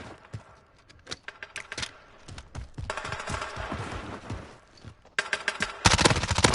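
Call of Duty gunfire from hip firing: scattered single shots and short bursts at first, then long rapid automatic volleys, loud and close, with no talking.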